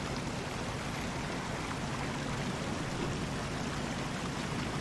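Water sprays hard from a fire hose attack line in the firefighting video game EmergeNYC, a dense, continuous hiss and rush like heavy rain that holds steady throughout, with no voices.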